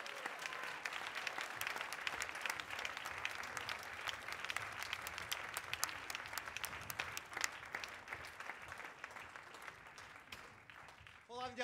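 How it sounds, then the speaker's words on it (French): Continuous applause from a theatre audience at a dance performance evening, dense even clapping throughout, heard from a distance and fairly quiet, easing slightly near the end. "Merci beaucoup. Applaudissez."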